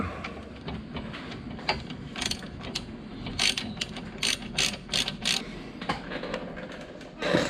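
A ratchet tightens the nuts on the shock studs of a 2005 Ford Ranger, clicking in quick, irregular bursts close by, with short pauses between strokes and no talk.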